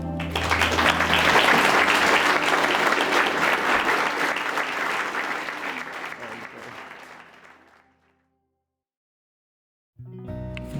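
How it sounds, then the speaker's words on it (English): Wedding guests at Meldrum House applaud the newly pronounced husband and wife, a loud sustained round of clapping from a full room that swells, fades out toward eight seconds, then gives way to silence before voices return. "Round of applause"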